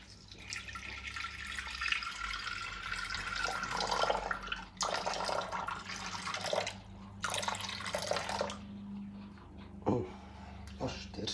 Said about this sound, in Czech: Takže si nalijeme 250 gramů vody.